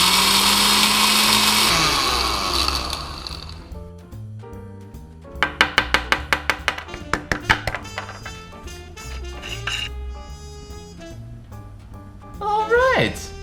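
An electric spice grinder mounted on a mason jar whirs loudly for a few seconds, grinding whole spices into curry powder, then cuts out, leaving clatters and taps of the jar being handled.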